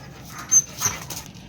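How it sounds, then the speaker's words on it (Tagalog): Farm dogs in the provinces pant and give short whimpering whines, close by and fairly faint, with two brief higher yelps. "Parang mga kabayo itong mga aso na to."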